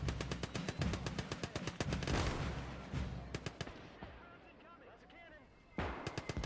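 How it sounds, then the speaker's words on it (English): Mortar rounds crash down amid rapid gunfire in the World War II game Gates of Hell, with dense bursts of shots and heavy impacts rumbling under someone talking. "I'm getting mortar fire coming down."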